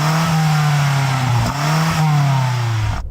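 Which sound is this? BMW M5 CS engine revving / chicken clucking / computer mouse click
BMW M5 CS engine revving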